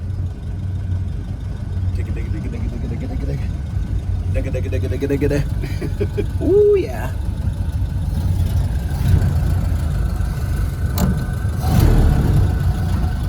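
A neglected, rusty VW engine, restored for a Mazzone sand rail, rumbles low and steady at idle with a few revs, running close and continuous beneath excited talk and exclamations.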